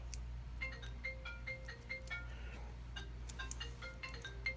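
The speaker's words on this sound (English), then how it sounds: "Getting a phone call behind me here." A phone rings faintly in the background with a quiet repeating electronic melody over a steady low hum, no voices present.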